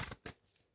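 Oracle cards are cut by hand: two short papery riffles or swipes of the deck, close but faint, followed by quiet, with no talking.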